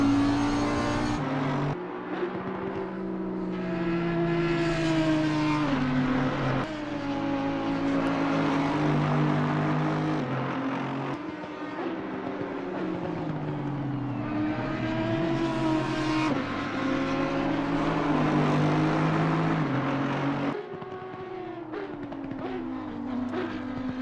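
Race cars in a sim racing game at Watkins Glen drone loudly and continuously, engines rising and falling through gear changes under hard acceleration and braking into a chicane, with other cars blending in nearby.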